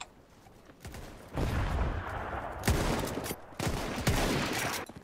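Gunfire and artillery fire during a Spanish Civil War battle in Mount & Blade, with dense sustained volleys and sharp cracks that roll into one another, loud and close, broken by brief lulls.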